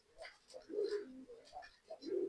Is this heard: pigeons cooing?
yes